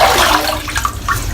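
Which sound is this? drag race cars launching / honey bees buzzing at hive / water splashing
water splashing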